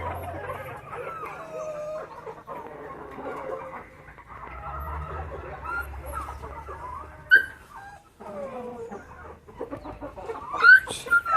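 Chickens cluck steadily at a breeder farm in Toopran, Medak district, Telangana, with the odd sharper squawk and a dog whimpering now and then, a busy, continuous poultry-yard chorus heard up close.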